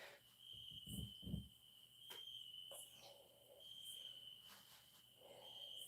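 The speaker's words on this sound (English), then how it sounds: "Listen to those crickets." Crickets chirp steadily outdoors at night in a high, continuous trill, moderately loud, with a few faint thumps and no talking.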